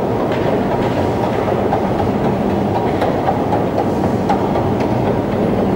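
A Belgrade metro train runs through its underground tunnel with a loud, close, constant roar and a faint rhythmic clatter of wheels on the track, and no voices.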